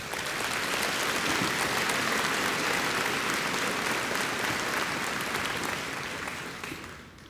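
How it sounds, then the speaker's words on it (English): Sustained applause from a large audience at a spring college commencement ceremony, dense and steady for several seconds before fading out at the end, with no talking over it. "Please, let's give them a round of applause."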